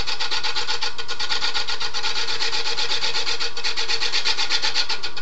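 Lathe tool cutting across the foot of a large wooden serving bowl turning at about 500 RPM, giving a steady, loud scraping and rasping that carries on without a break. No voices.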